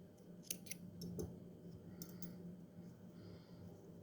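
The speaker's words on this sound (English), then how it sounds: "cut the yarn" Scissors snip through crochet yarn at a craft table, giving a few quiet, close, crisp cuts and clicks in a short burst, with no talking.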